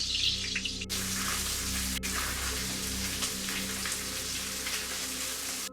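Steady, crackling sizzle of butter in a hot pan, a dense hiss that continues throughout at a moderate level.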